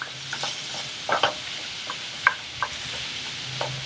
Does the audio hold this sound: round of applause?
no